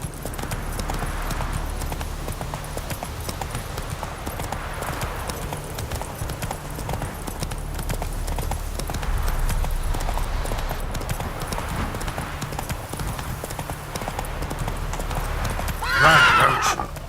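Roach, the horse in The Witcher 3 game, gallops with a steady rhythmic clip-clop of hooves for the whole stretch, ending in a loud whinny near the close.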